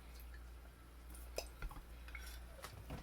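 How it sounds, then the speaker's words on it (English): A spoon stirring honey into elderberry syrup: quiet clinks and soft scrapes against the pot over a faint background hum, with a few brief knocks and no voice. "grab my spoon here to stir, and we'll mix all that in"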